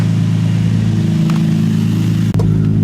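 A Nissan G35 engine idles with a loud, steady low rumble close up, with a brief dip near the end; the exhaust may be leaking, and no voices are heard.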